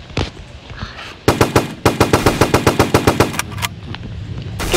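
Machine gun fire in a Roblox video game: several rapid bursts of sharp, loud gunshots in quick succession, with a dense central run of evenly spaced shots and a few scattered shots before and after, heard with no talk.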